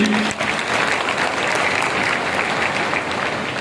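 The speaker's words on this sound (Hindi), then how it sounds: "एक बार गौ माता के नाम जोरदार ताली बजाइए सभी।" A large crowd at a cow shelter event claps loudly and continuously in honour of Gau Mata, a dense, sustained wall of applause with no speech over it.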